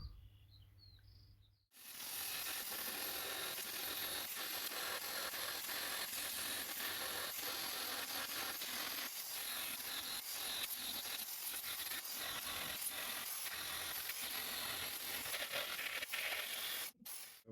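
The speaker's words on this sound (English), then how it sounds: "my weapon of choice is the finger sander with a 60 grit, maybe even a 40 grit sanding belt on it" A small finger sander with a coarse 60-grit belt grinds steadily against plastic, a continuous harsh buzzing rasp lasting over fifteen seconds with slight fluctuations, starting abruptly after a brief quiet moment.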